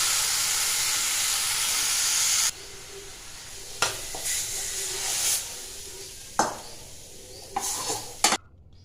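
Pea pod peels frying in a pan, giving a steady hiss and sizzle that drops in level partway through, with scattered scrapes and clinks of a utensil stirring against the pan.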